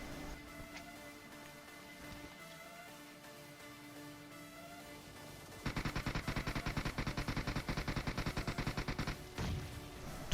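Rapid automatic gunfire in PUBG Mobile, a dense, fast-repeating burst lasting several seconds after a quiet stretch of ambient game sound, loud and close with no talking.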